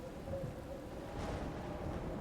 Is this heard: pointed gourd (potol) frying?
no